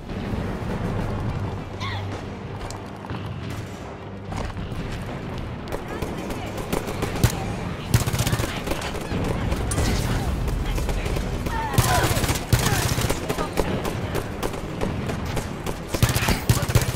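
SAW machine gun firing in the video game Halo 5 Guardians, dense rapid bursts of gunfire with explosions and battle noise, heavy and continuous, with someone talking over it.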